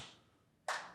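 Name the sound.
two people clapping hands together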